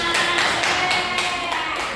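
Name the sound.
class clapping hands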